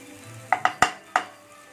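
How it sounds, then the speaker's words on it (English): Butter chicken masala sautés in a pan with a faint background sizzle, broken by four sharp, close metallic clinks of a utensil against the pan. "So let this saute for a good time"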